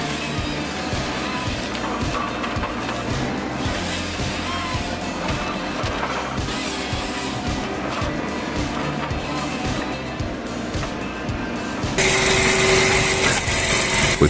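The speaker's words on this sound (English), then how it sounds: "the LogMax 6000B effortlessly handles massive trees, boosting logging productivity" A LogMax 6000B firewood processor running hard while cutting big logs, a loud, continuous high-revving engine drone with rhythmic pulsing of the saw and feed, near and steady, rising louder near the end.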